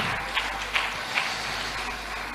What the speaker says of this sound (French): Si nous pouvons acclamer pour Jésus.